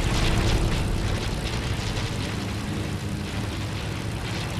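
Airplane in the Fortnite video game, heard as a steady, loud, broadband engine roar that drones on unchanged throughout.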